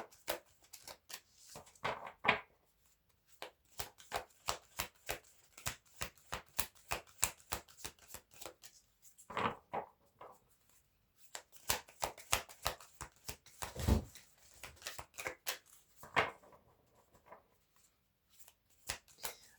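Cards are riffle-shuffled repeatedly, quick clattering bursts of flicking cards in a steady rhythm, close and fairly quiet, with no talking.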